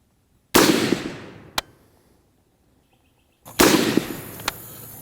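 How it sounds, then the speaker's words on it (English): Two loud rifle shots from a Savage MSR10 Hunter AR-10 fired at a 100-yard range outdoors, each a sharp crack with a long decaying echo and a faint distant report after it, spaced about three seconds apart. "I just shot the Savage MSR10 Hunter at 100 yards."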